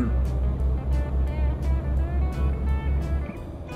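A loud, low truck engine in the video game Euro Truck Simulator 2 drones steadily with a pulsing, chugging rhythm, then drops off near the end.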